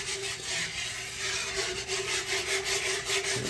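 A whisk scrapes and stirs gravy in a pan with quick, rhythmic rubbing strokes, close and fairly quiet, over a faint steady kitchen hum.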